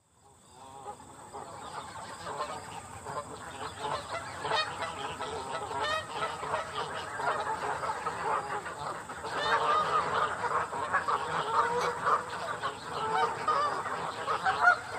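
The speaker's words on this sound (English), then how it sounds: "Goose." Geese honking repeatedly on a farm, a dense flock calling in overlapping bursts that stay steady and grow slightly louder toward the end.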